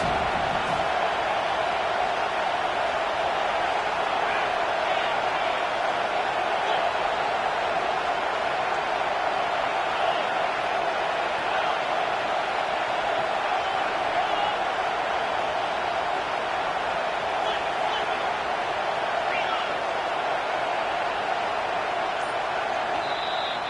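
A packed football stadium crowd at a Washington versus USC college game roars steadily and loudly to back the defense late in a tied contest, a dense, sustained wall of cheering with no pauses.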